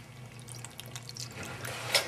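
Vinegar is poured over grated horseradish, a soft trickling liquid sound that stays quiet and close, with a few small splashes near the end.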